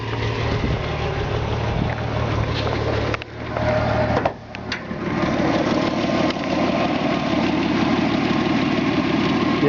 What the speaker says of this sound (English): You can hear the engine just purrs like a kitten.